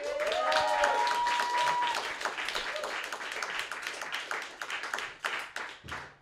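A comedy fight club audience bursts into dense applause with cheers and a whistle at the start, the clapping thinning into scattered claps as it fades toward the end.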